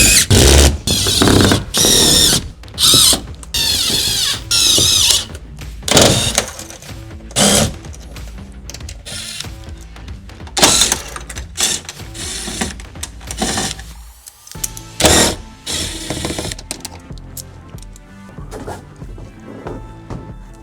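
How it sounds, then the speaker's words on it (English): A screwdriver set to light impact drives self-threading screws into a RAM ProMaster van wall, firing in repeated short whirring and rattling bursts with brief pauses between screws. "we're going to use our screwdriver on a little light impact here to put those in"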